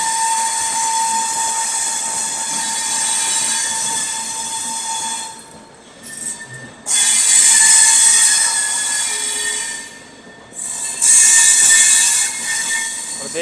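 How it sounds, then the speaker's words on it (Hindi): The New Delhi–Mumbai Duronto Express pulls out of New Delhi station. Its rolling rumble carries long, high metallic wheel squeals that cut out briefly and then return even louder, heard close with no talk. "न्यू दिल्ली से हम लोगों के निकलते ही हो रहा है पैरेलल डिपार्चर लखनऊ मेल के साथ।"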